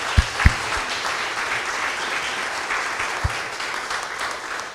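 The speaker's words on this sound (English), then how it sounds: "So I would like a round of applause to thank our panel." Audience applause thanking a panel at a scientific conference, steady clapping across the whole stretch with a few louder thumps near the start, moderately close.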